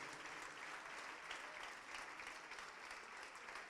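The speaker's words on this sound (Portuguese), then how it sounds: "Vamos aplaudir mais ao nome do Senhor" Steady applause fills a long church hall as a congregation claps together, dense and continuous throughout with no pauses.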